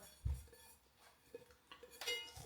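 A few light metallic clinks and knocks as thin pots of an ALOCS CW-C05 camping cookset, 1 and 1.2 litres, are handled and nested, soft and close, with short pauses between.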